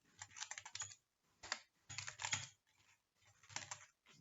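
Quick bursts of keystrokes as C code is typed on a computer keyboard during a programming lecture, clattering in short runs separated by brief pauses, close and fairly quiet with no talk.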